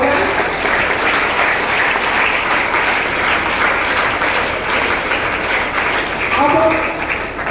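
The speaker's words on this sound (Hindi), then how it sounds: "मैं चाहूँगा कि इन सभी के लिए एक बार बहुत अच्छी सी तालियां हो जाए" School audience at a Hindi Diwas event applauding, a thick, continuous wash of many hands clapping at full volume, swelling briefly near the end.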